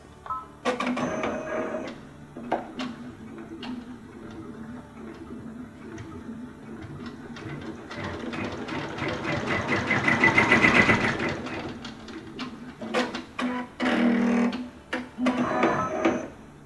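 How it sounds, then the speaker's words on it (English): An embroidery sewing machine stitches an appliqué seam in a hoop, its needle chattering in a steady mechanical run that swells louder midway, with brief pauses and restarts near the end. "now I'm going to allow the machine to sew the next step"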